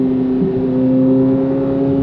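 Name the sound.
Chevrolet Corvette C8 Z06 driving in track mode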